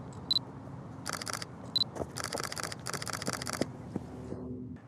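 A camera shutter fires at 1/60 second while shooting a runner, several quick mechanical clicks in short bursts, close and fairly quiet, with no talking.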